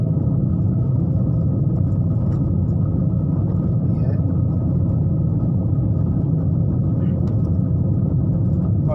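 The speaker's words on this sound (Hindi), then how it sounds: "ये रोड सारे ग्रेवल रोड्स हैं। बस गाड़ी के अंदर एक अजीब सा साउंड होगा" A car rolls along a gravel road near Birgunj, Nepal, with a continuous low rumble and road roar heard from inside the cabin, steady throughout.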